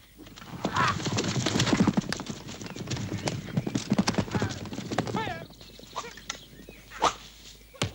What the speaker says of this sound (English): Robiro, saddle the horse